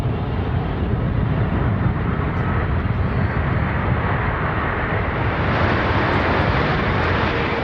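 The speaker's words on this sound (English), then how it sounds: "we put the gear down, turn downwind, and turn in for a landing" Aircraft turning downwind with gear down and banking in to land at the Farnborough airshow, heard as a steady, loud engine roar with a slight rise in the second half, no voices over it.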